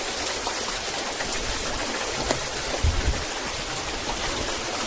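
Water in a stream flows steadily through a jungle adventure trail, heard as a constant broadband rush that stays even throughout, with no voices.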